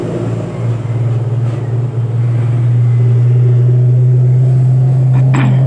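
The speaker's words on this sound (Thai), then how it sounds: "เสียงรถค่อนข้างดังนะครับ" A loud, steady low engine rumble from nearby road traffic swells and holds. It is constant and close, and no voices are heard over it.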